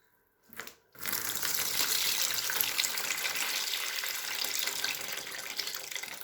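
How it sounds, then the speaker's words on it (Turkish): Running water pours steadily over olives being rinsed in a kitchen, a continuous close splashing stream that starts after a brief short burst, with no talking. "Şimdi bu suyu dökerek zeytinimi burada birkaç su yıkayacağım."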